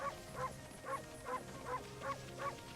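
Cartoon dog barking from the video game Okami: six short, evenly spaced yips in a steady rhythm, moderately loud over a quiet game background hum.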